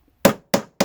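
Three crisp, close hammer blows land on a cork sheet at an even pace, each a sharp knock that dies away quickly.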